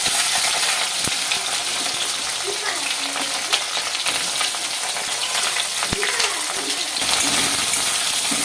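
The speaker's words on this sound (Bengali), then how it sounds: "তেলটা একটু আরেকটু গরম হবে, গরম হয়েও গেছে। তো এখানে আমি দিয়ে দিই পেঁয়াজ" Onions sizzling in hot oil for an egg chilli dish, a steady dense frying hiss running throughout with occasional sharp clinks and stirring scrapes, close and fairly loud, no talking.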